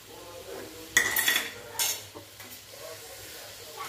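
Fresh green peas roast in a pan for khichdi, with a metal spoon clinking and scraping against the pan in a few sharp bursts over a soft sizzle.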